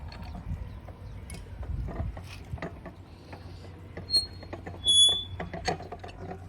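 A canal lock paddle is wound shut with its ratchet, giving a run of irregular metallic clicks and clanks nearby, with a few louder knocks toward the end and no talking.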